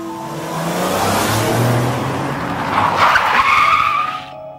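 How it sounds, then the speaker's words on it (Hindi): A car braking hard, tires skidding in a loud rising screech over engine rumble, the squeal swelling near the end before cutting off abruptly. "तभी गुल्ली गाड़ी में जोर से ब्रेक लगाता है।"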